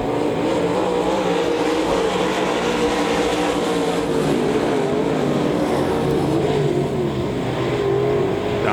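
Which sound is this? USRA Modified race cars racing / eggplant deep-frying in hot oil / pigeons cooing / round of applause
USRA Modified race cars racing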